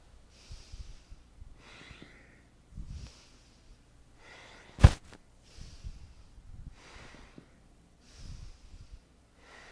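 During a Kundalini-inspired yoga session, slow breaths repeat at a calm, even rhythm, each exhale a soft airy rush close to the microphone, with one sharp louder snort-like breath near the middle.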